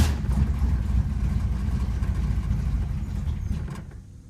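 A 1966 Chevrolet Impala's engine, just back from fuel tank repair, running with a low, rough, steady rumble close by, then cutting out and fading near the end.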